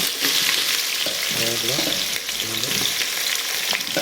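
Onions tossed into hot oil with lightly fried cinnamon, cloves and cardamom sizzle loudly and steadily, with a couple of short scraping stirs partway through and no voices.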